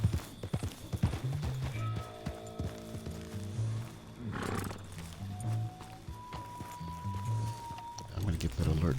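Steady clip-clop of trotting horse hooves in Red Dead Redemption 2 Online runs throughout, mixed with game music and a brief rustling swell in the middle.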